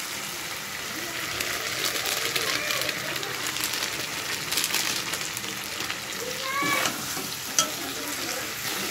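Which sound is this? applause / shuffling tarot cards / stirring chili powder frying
stirring chili powder frying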